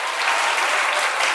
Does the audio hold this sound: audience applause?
yes